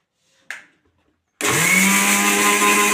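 Mixer grinder starting up abruptly after a short knock and then running loud and steady, whirring as it blends soaked rice into a paste.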